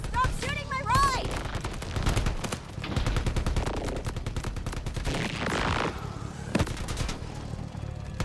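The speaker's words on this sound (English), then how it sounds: "Stop shooting my ride!" Rapid automatic gunfire rattles in Borderlands 4 as shots hit a vehicle, bursts of close loud shooting running nearly throughout with brief pauses, mixed with game sound effects and a voice.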